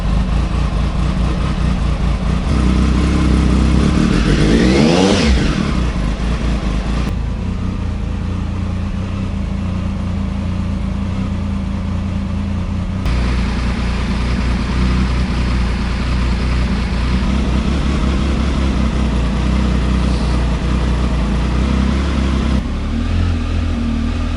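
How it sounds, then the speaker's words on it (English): A Triumph Tiger 955i motorcycle engine runs continuously and loudly on a cold day, idling with a rising rev around the middle and fluctuating engine speed throughout. "Engine is changing its rev range all the time."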